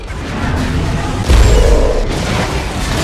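A fiery explosion engulfs a runaway train, its sudden deep boom swelling up and rumbling loudly over a continuous roaring din.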